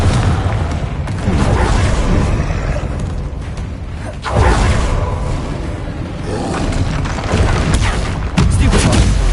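Repeated booming explosions from the Confringo fire spell in Hogwarts Legacy, loud, dense bursts with roaring blasts that hit hard at several points, mixed with game battle sound and no clear talk.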